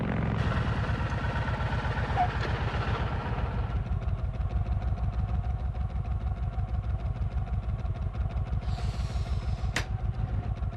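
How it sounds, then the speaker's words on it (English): A Kawasaki Vulcan 1500 Classic with a big V-twin engine idles and revs close by, a deep, evenly loping rhythmic thump, with a brief higher whine near the end. "The new Kawasaki Vulcan 1500 Classic. With the biggest V-twin ever to hit the asphalt, you've never felt anything like it."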